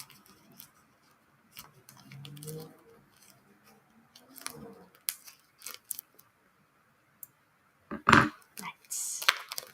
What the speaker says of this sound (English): We are going to snip.